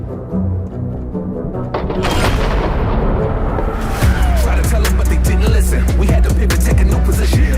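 A loud, heavy launch blast from an RGP-40 or Heckler & Koch GMG grenade launcher followed by sharp, rapid impacts and rumbling bursts, close and intense with no talking.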